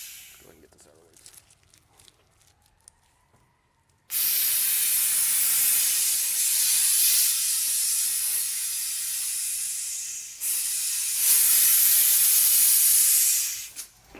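Air hisses loudly and steadily while a tire is inflated on a Hunter tire mounter, a strong rushing burst that cuts off briefly and resumes. Quieter handling noises come first, and a person talks during the clip.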